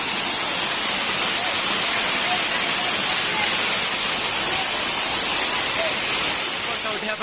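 Ogi waterfall, water pouring down at a picnic spot in a steady, loud, broadband rush that holds unbroken from start to end with no pauses.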